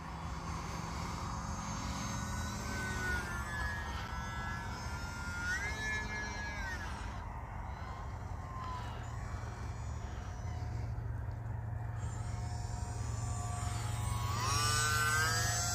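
Small E-flite UMX Turbo Timber RC plane flying low overhead on a cold day, its electric motor whining continuously with rising and falling pitch as it passes, heard over a steady background hum.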